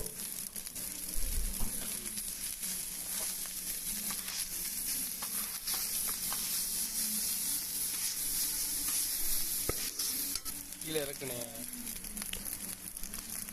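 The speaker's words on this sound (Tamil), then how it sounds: "அதை வந்து மேலே கொட்டி நல்லா ஃபுல்லாக மிக்ஸ் ஆகிற மாதிரி நல்லா கிண்டி விட்டுக்குருவோம்" Chicken biryani with plain biryani rice tipped over it is stirred and mixed in a pan, a steady sizzle with scraping and rustling of the spoon through the rice, continuous and close.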